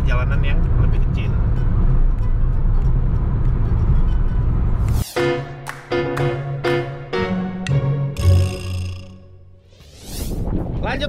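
A Toyota Agya GR drives along a smaller road, its engine and tyre noise a steady close rumble for several seconds before someone talks over the quieter cabin sound.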